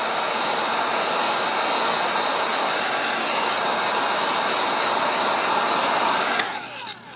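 A heat gun blows a loud, steady airy whir while warming smoked vinyl tint film on a Bronco Sport lens, then cuts off abruptly near the end, with no talking.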